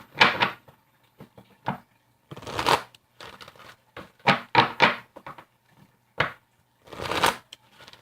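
Tarot cards are shuffled four times in quick, papery bursts separated by short pauses, close and crisp, with no talking.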